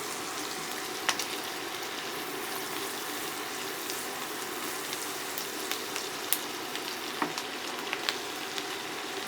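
Garlic sautés in a pan, giving a steady, soft sizzle dotted with small crackles and pops, with no voices over it.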